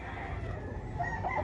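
A rooster crows at a public market chicken expo, one drawn-out call rising late in the moment above a busy, noisy background.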